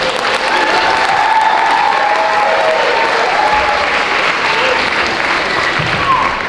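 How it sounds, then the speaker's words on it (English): A school concert audience breaks into loud, sustained applause with some cheering for the elementary side-by-side band, a full, even wash of clapping that continues for over six seconds. "So let's give these kids a big round of applause."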